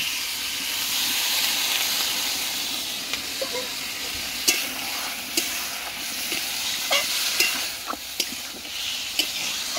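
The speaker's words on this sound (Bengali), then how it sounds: "জলটা দিয়ে ভালো করে নেড়ে নেব।" A spice mixture sizzles steadily in a hot pan after a splash of water, with a bright continuous frying hiss and scattered scraping clicks of a spoon stirring, close and alone.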